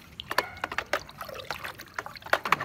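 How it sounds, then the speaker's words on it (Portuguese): A small 30 ml dose of pool cleaning product is poured into a pool's water. It makes close, irregular trickling and splashing drips, with sharp little plinks spread across a few seconds. "Derrama um pouquinho aí, ó. E vamos colocar aqui, ó, os 30 ml."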